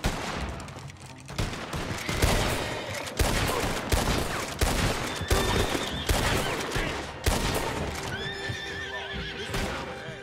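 Gunfire in the video game Red Dead Redemption 2, a rapid string of loud, sharp shots in a dense firefight mixed with horses neighing and the clatter of hooves.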